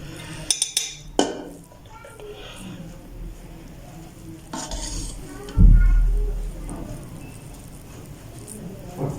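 A spoon clinks and scrapes against a cooking pot while sweet zarda rice is served out, with a few sharp metallic taps early on and a louder scrape later, and a voice talking quietly in between.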